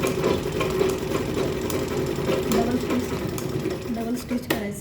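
A sewing machine double-stitches a small girl's cloth purse with a steady, rapid mechanical whirr that pauses and restarts, while someone talks over it.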